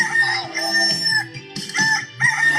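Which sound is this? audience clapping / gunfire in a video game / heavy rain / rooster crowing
rooster crowing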